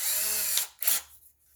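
A cheap secondhand power drill whirs loudly and steadily for about half a second, stops briefly, then gives a second short burst before dying away, close and alone.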